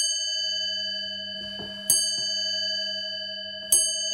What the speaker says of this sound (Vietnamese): Đấy là tiếng điểm 3 giờ, điểm 3 tiếng.